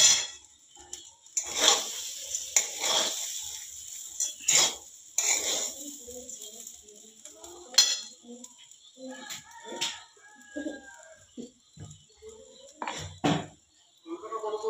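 Pulao being stirred with salt in a pot, giving irregular metallic scrapes and clinks spread across the stretch, with pauses and a faint chirp in between.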